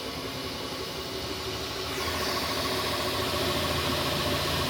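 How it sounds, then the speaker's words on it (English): A 3D printer at work gives a steady mechanical hum with whirring and vibration that grows a little louder partway through, continuous and close, with no talk. "It's printing away."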